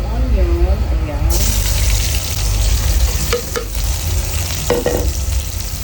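Pork and onion stirred in a frying pan for pork tausi, with scraping utensil strokes over a continuous sizzle, close by, and a voice heard briefly at the start.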